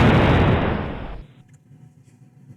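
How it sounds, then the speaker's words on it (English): A loud, broad explosion sound effect roars for about a second, then cuts off abruptly, leaving only faint low rumble and small clicks. "I should have left on the explosion."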